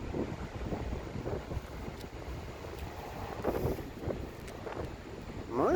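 Gusty wind outside an airport's Terminal 2 in the Philippines buffets the microphone in low rumbling bursts, rising and falling, with faint voices in the background.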